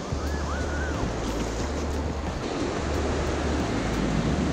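Ocean waves washing onto a beach, a continuous roar of surf with wind buffeting the microphone, steady and close, with no voices.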